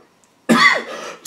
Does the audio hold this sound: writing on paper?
no